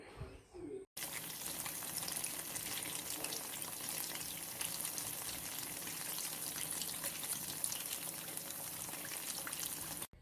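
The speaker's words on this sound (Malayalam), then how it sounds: "കടുക് പൊട്ടുമ്പോൾ കറിവേപ്പില ഇടാം." Mustard seeds and curry leaves fry in hot oil with dried red chillies, making a loud, steady, dense crackle and hiss that runs without a break.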